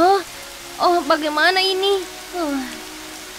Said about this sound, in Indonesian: Hujan! Ya ampun, anak-anak akan kebasahan.